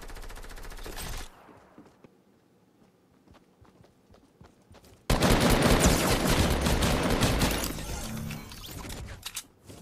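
Rapid gunfire in the Fortnite video game, with sniper shots among it: a loud, dense burst of shots at the start, a quieter stretch with scattered sharp cracks, then a long run of heavy, continuous firing.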